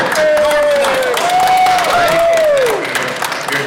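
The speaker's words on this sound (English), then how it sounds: "Let's have a round of applause here for Mr. Music!" A crowd at a WIXY radio gathering tied to Cleveland's Rock and Roll Hall of Fame breaks into loud, dense applause for an honoree, with cheering and a rising whistle riding over the steady clapping.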